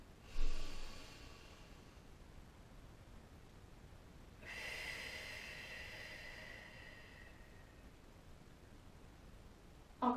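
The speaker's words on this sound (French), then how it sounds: "le fait de souffler longuement, ça va vous permettre de vous apaiser" Slow, controlled breathing during a relaxation exercise: a short airy intake, then a long, soft drawn-out exhale lasting several seconds, faint and close, with no speech.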